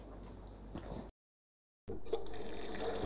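Running water gushes steadily over salted cabbage being rinsed, broken by a brief silent gap before the flow resumes, close and fairly loud with no talking.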